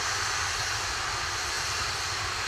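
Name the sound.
Atlas V rocket engine during launch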